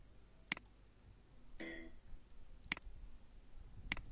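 Computer mouse clicks while working in Windows Live Movie Maker: three sharp, isolated clicks a second or more apart, with a short soft rustle between the first two over a quiet background.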